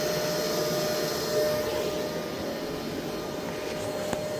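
A robot vacuum cleaner, a self-cleaning model from the Mova P10 Pro Ultra setup, runs with a steady broadband whir and a faint constant hum, continuous and unchanging throughout.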